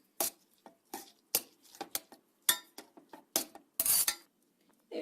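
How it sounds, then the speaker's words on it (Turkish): Curry-seasoned noodles being stirred in a pan, giving a series of short, irregular clinks and scrapes of a utensil against the cookware, close and fairly quiet with brief gaps between strokes. "Şimdi güzelce karıştıralım"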